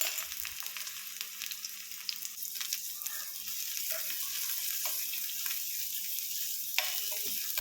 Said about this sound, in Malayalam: വെളിച്ചെണ്ണ ചൂടാകുമ്പോൾ അതിലേക്ക് ഒരു 10 ചെറിയ ഉള്ളി നന്നാക്കിയത് അരിഞ്ഞിടാം.